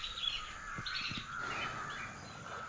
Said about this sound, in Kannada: ಪಕ್ಷಿಗಳು ಸದ್ದು ಮಾಡುತ್ತಾ ತನ್ನ ತನ್ನ ಗೂಡುಗಳಿಗೆ ಹಿಂದಿರುಗುತ್ತಿವೆ.